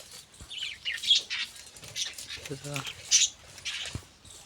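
Pigeons roosting by their nest of chicks flap their wings in quick bursts, with soft chirps and a brief low coo, fairly faint and close.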